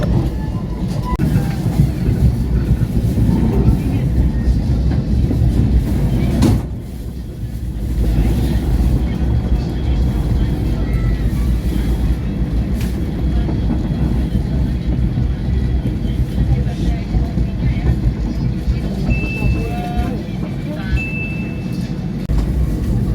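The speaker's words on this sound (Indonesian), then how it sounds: "kereta api Pangrango meninggalkan stasiun Cicurug" The Pangrango passenger train pulls out of Cicurug station, a continuous loud rumble of wheels and engine, with a brief dip midway and a faint high tone near the end.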